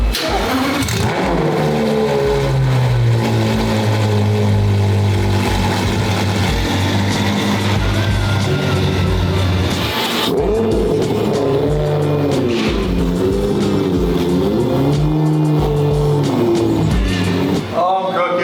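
A powerful supercar engine cold start roars and revs loudly up close, its pitch rising and falling over a rumbling idle, with occasional faint voices.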